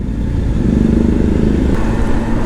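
A Kawasaki Ninja ZX10R with a quick shifter, heard while riding in fourth gear: a loud, steady engine drone close to the microphone with a buzzing tone and a brief dip in pitch partway through.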